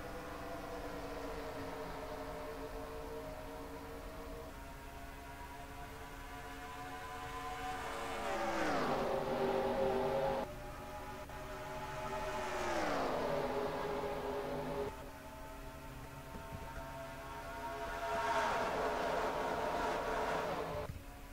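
Stock cars roar around Fontana in a racing video game's Cosmo Motors 300 restart, a steady engine drone broken by three loud revving sweeps as packs of cars blast past.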